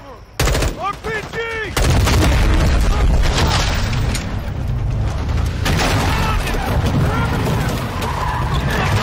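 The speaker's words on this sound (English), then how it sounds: "On the roof! RPG!" A loud, sustained roar of explosion and gunfire from an RPG strike fills the scene in Modern Warfare 2's Prison Break mission, after a brief shouted voice, continuing as dense rumbling battle noise.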